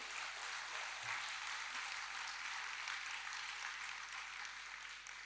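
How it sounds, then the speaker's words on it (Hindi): Steady audience applause at a spiritual talk, a continuous broadband wash of clapping held at even level throughout, moderately distant and without speech over it. "जोरदार तालियां बाबा जी के लिए।"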